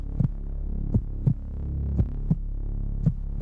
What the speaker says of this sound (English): The beat of a glorious heart.